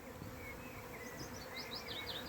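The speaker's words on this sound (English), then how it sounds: "The whole sky is just teeming with bees." Steady, dense buzzing of many bees, continuous throughout with no pauses.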